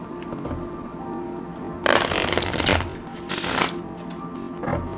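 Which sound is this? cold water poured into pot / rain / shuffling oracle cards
shuffling oracle cards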